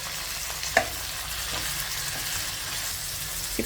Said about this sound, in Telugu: ఇప్పుడు ఈ టమాటో ముక్కలను కూడా ఒక 2 నిమిషాలు ఫ్రై చేసేసుకోవాలి.